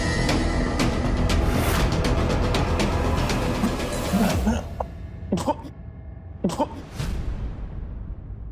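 Several sharp coughs from a man come close and loud in the first half over a dense noisy background, then a few more isolated coughs follow more quietly.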